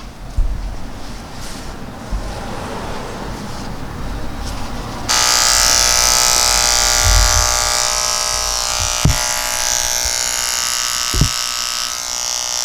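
Electric hair clippers buzz steadily near the head as the blade corner removes a weight line during a skin fade on a curly top cut; a softer hiss gives way to a loud, constant motor whine with a couple of brief clicks.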